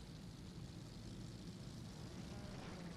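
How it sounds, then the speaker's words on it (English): Idling engines of historic 1964 sports cars rumble together on the starting grid at Longford in a racing video game, a dense, steady low drone with a faint buzzing edge. "listen to all those engines."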